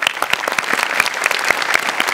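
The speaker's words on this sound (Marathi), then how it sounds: "जोरदार टाळ्या" Studio audience on a Marathi comedy show breaks into loud, sustained applause, dense clapping continuing steadily throughout with no talk over it.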